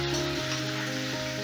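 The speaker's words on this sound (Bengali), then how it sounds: "আদাটা দেওয়ার সঙ্গে সঙ্গে তেলে ছিটকোতে থাকে" Ginger paste hits hot oil in a pan with a dense, steady sizzle and fine spattering, close and fairly loud, with no voices over it.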